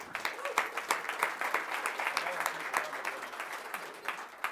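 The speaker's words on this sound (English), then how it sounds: "Go ahead and give them a round of applause to get started." Audience applause for two presenters being introduced at a 1 Million Cups startup pitch event in Kansas City, a steady patter of many hands clapping at moderate level, with a faint voice underneath.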